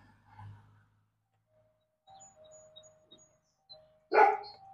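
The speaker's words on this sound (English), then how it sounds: "I'll take that bark, Moo." A dog gives a single short bark near the end of a quiet indoor stretch, loud and close, following a faint sigh-like sound and light household noise.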